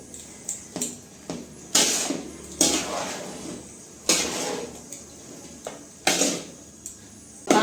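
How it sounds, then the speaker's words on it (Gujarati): Cooked rice being mixed in a metal pot, with a spoon clanking and scraping against the pot in irregular bursts, fairly close and with no talking. "હવે બધું મિક્સ કરી દઈશું"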